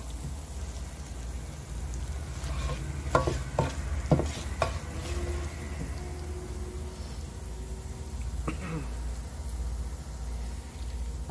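Cumin seeds fry softly in an electric pan, a low steady sizzle with a few brief crackles and stirring taps near the start and again later.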